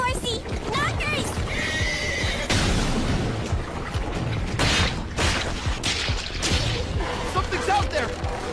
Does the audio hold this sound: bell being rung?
no